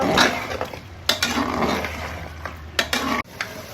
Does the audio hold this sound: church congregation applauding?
no